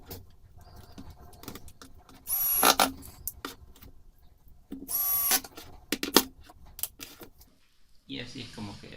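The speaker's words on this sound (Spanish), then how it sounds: "Terminamos de colocar los tornillos." Screws driven in to fit drawer slides, with bursts of power driver whirring and metallic clicks and rattles between quieter gaps, heard close up with a voice speaking briefly.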